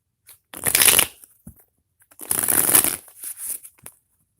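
Tarot cards being shuffled in two crisp bursts of riffling and flicking, close and clear, with a few light taps between them.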